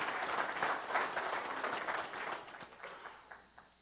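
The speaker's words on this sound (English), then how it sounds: "So a quick round of applause." A round of audience applause at a company conference's opening keynote, steady clapping that fills the hall and then tapers off over about four seconds.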